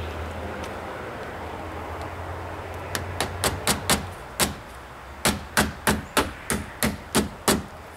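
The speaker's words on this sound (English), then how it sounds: "So screw it, I'll put nails in it. Right into the stud there." Nails are hammered into a wooden stud while making roof caps: sharp, close hammer blows come in two quick bursts, about six strikes and then about eight in a steady rhythm, over faint background rumble.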